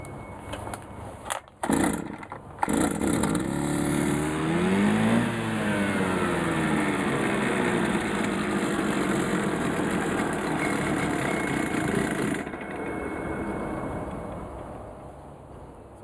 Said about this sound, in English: the blade will just keep spinning even though the wacker is idling